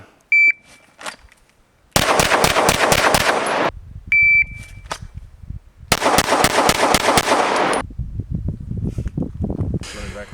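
Handgun shots fired in a shooting drill: two loud, rapid strings of closely spaced reports, each roughly two seconds long, separated by high electronic beeps of a shot timer.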